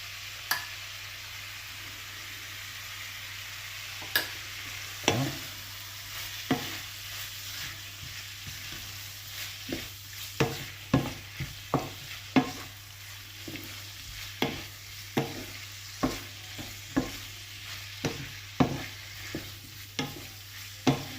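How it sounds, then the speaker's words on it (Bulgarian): Tripe fries in a pan with butter and garlic, giving a continuous crackling sizzle punctuated by regular scraping and tapping clicks of stirring, close and without any speech. "Докато се запържа самото шкембе на тигана съедно с маслото и чесънчето"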